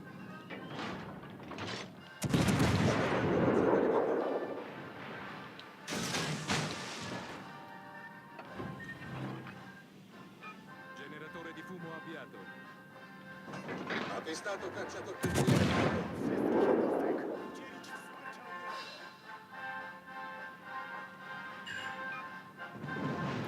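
Heavy 16-inch naval guns of the battleship North Carolina firing in the World of Warships: Legends video game, two big booming salvos several seconds apart with rumbling decay, amid game effects and faint talk.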